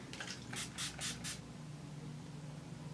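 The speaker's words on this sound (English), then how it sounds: "I'm also going to spray a little bit of water on my brush just to kind of give it a little bit more of a pop" Short misting bursts from a spray bottle wet a makeup brush with water, about four quick soft hisses in a row close to the mic, followed by a quiet room.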